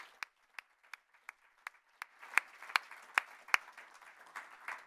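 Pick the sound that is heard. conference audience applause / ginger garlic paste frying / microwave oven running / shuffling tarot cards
conference audience applause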